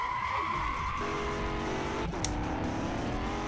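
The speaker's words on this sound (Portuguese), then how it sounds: "Nossa, o carro dele é rápido." Race car engine roaring steadily in the Street Legal racing video game, with tires skidding and squealing as the car slides, plus a brief sharp impact partway through; loud and continuous with no talking.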